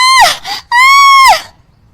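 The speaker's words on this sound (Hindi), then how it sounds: "जल्दी जल्दी चूल्हा बुझाने के चक्कर में उसके पल्लू में आग लग जाती है और वो जोर जोर से चिल्लाने लगती है।" A woman screams loudly as the end of her sari catches fire at a cooking stove, with a short high cry followed by a longer sustained shriek, both close and piercing.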